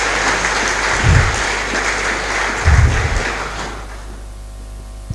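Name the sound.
audience applause at freshmen orientation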